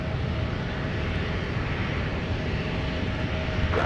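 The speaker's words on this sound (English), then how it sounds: "I want to catch the American Airlines departure to Charlotte" An American Airlines jet departing from MSP airport gives off a continuous broad engine roar, steady and fairly loud, with a faint sustained tone running through it and no speech.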